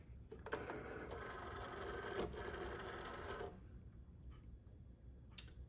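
A vinyl cutting machine feeding a sticky mat for a rhinestone T-shirt template, a quiet mechanical whirring motor run of about three seconds with faint clicks, then a few soft ticks.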